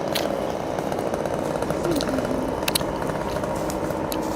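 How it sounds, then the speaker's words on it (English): A chainsaw cutting wood drones steadily throughout, a continuous rough buzzing engine at moderate distance with no pauses. "Guy with the chainsaw right there"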